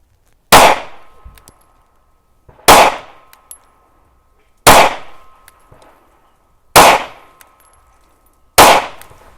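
Five sharp pistol shots from a compact M&P handgun with a 3.6-inch barrel, fired at a shooting range. They come evenly spaced about two seconds apart, each a loud crack with a short ringing tail, and there is no talking.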